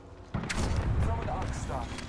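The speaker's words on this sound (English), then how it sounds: "Thermite grenade sent." A thermite grenade going off in the video game Apex Legends: a sudden, heavy blast that lingers as a roaring, crackling burn, with some voice over it.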